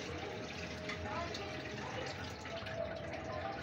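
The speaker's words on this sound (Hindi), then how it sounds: "इसके अंदर पानी डाल लेते हैं।" Water is poured into a cooking vessel in a home kitchen, a steady close rushing pour that runs throughout while a voice murmurs faintly underneath.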